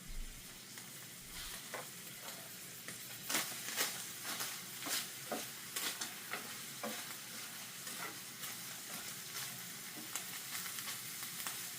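Ground pork sizzles and crackles in a hot skillet while a utensil scrapes and breaks it up in a steady rhythm of sharp strokes, close and clear, with no talk.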